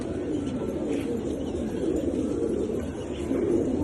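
Dense, continuous low cooing from a large flock of about 140 pigeons, with wing flutters and scattered calls blending into a steady murmur.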